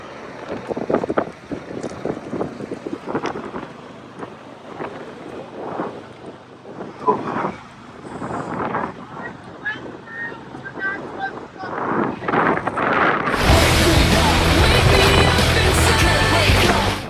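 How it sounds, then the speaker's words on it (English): Gusty wind buffets the microphone outdoors during a U-Haul towing job, rumbling in bursts under men's conversation and then swelling into a loud, steady roar near the end. "Yeah, the wind is terrible."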